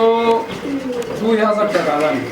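Lahori pigeons at a market give throaty coos close by, with a voice talking over and between the calls.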